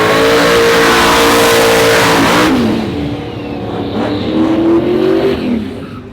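A car's engine revs hard and continuously through a rolling burnout, loud and close, the pitch climbing and then dropping before rising again, with no talk.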